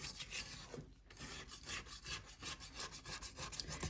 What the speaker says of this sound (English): I'm going to scrape the sides.